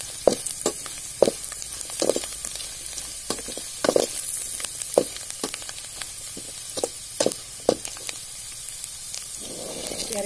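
Cardamom pods and cashews fry in hot oil for Chettinad chicken curry, a constant close sizzle broken by sharp crackling pops at irregular intervals, with no talking.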